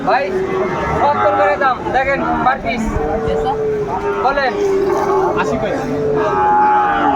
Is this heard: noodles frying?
no